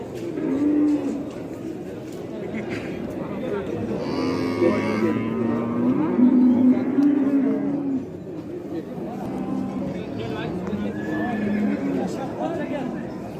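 Cattle at the Ozgon livestock market low and moo amid a busy, crowded din, with people talking throughout and a longer stretch of deep lowing in the middle.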